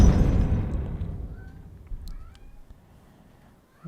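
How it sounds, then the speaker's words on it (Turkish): A cat meows a few times in the background, faint and brief, over a fading low rumble. "Arkada kedi miyavlıyor duyuyorsunuz."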